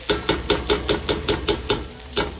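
Lamb browning in a hot pan, sizzling steadily with a regular rhythm of about ten scraping or stirring strokes, close and moderately loud.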